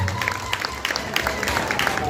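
An audience at a primary schools music festival award ceremony claps in a brief burst of scattered, mid-distance applause while a voice talks over it.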